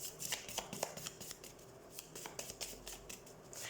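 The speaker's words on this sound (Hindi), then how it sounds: "लेट्स सी कुछ और कार्ड्स।" A deck of tarot cards is shuffled close up, a quick run of crisp riffling flicks and soft slaps in uneven bursts, quiet and with no talking.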